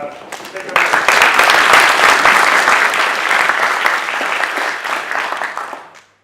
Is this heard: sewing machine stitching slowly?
no